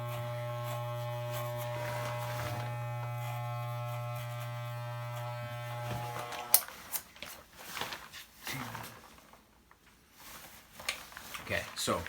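Electric hair clippers fitted with a 3 mm guard buzz steadily and close by for about six seconds before switching off. After that come rustling handling sounds and some talk.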